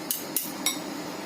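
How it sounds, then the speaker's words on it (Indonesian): A spoon scrapes and clinks against a bowl while stirring sweet potato cake batter mixed with sweetened condensed milk, three crisp, close taps in a steady rhythm followed by a quieter scraping moment. "Kemudian kita aduk sampai rata."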